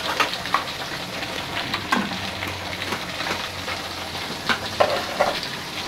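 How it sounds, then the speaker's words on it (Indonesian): Steady crackling sizzle of chicken frying in hot oil, with occasional pops and soft clatters of turning, no voices. "kalau goreng ayam kayak gini baiknya sih sering dibolak-balik."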